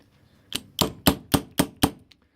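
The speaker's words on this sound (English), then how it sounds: "what I'm doing now, I'm hitting the actual housing." Six sharp metallic taps of a tool striking the housing of a T-handle lock, evenly spaced about a quarter second apart, close and fairly loud with no talking.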